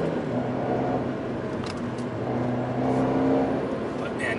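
A Fiat 124 Spider Abarth sports car on the road on a cool fall day, a steady engine drone heard from inside the cabin with a slight rise in pitch, close and continuous.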